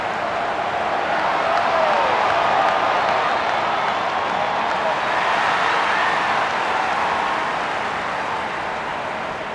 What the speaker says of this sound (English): Just listen to the crowd for this grand final.